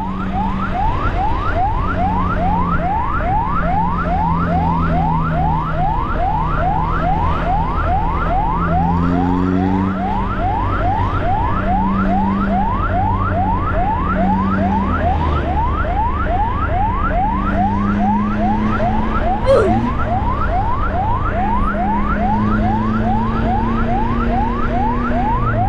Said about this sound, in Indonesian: Ya, ambulan RSUD Tanah Datar.